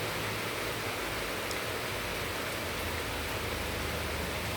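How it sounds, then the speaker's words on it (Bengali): Heavy rain falling steadily outside a home by a main road, a dense, even hiss that stays constant throughout, with no voices. "কিন্তু প্রচুর বৃষ্টি হচ্ছে।"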